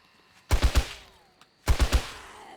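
Gunfire in the survival video game 7 Days To Die: two loud, close bursts about a second apart, each made of three rapid shots with a short echoing tail.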